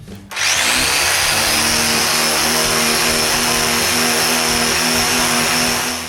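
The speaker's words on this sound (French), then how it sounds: "Pour faire ça, j'utilise ma sableuse linéaire" A linear sander sanding wood starts up after a brief pause and runs loud and steady, a continuous high buzzing drone that holds without a break.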